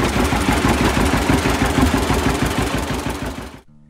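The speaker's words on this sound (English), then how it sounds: "John Deere 730." A John Deere 730 tractor engine runs with a loud, steady, low chugging beat that repeats evenly and stays close, then cuts off abruptly near the end.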